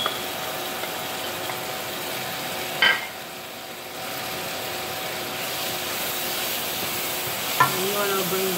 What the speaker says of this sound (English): so now I can add my shrimp